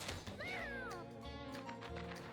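A cartoon cat meows in the Mewgenics video game, a short rising-and-falling mew over continuous game music and effects.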